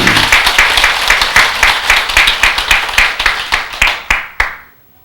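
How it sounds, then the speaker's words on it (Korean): Close, loud clapping from an audience at a Buddhist dharma service, honoring the temple's head monk: sharp individual claps in a quick, loosely rhythmic burst that thins out and stops after about four and a half seconds. "주지스님에게 박수 한번 보내십시오"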